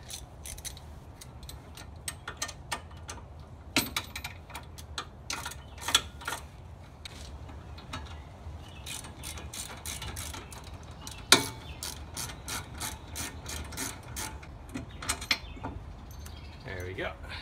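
Ratchet wrench with a 19mm socket working on a 5-lug hub conversion with 300ZX brakes, giving rapid close clicking in short bursts with sharper snaps between, no talk.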